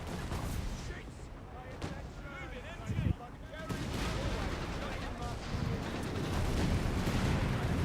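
Airstrike explosions in Company of Heroes 3, heavy rumbling blasts and crackling bursts filling the scene, with a sharp louder impact around the middle and a dense, sustained barrage continuing to the end beneath battlefield voices.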